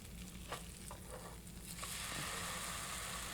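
Tofu French toast fries in a non-stick pan, giving a steady, close sizzle with faint crackles throughout and a few light clicks of a utensil near the start.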